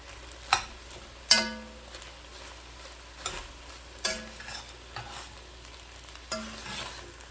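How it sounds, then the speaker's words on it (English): Cooked rice and chicken are stirred and broken up in a pan, with a series of sharp scraping and clacking utensil strokes at irregular intervals over a faint background, close and without talking. "So we're just gonna break up the rice, mix it all up in here together"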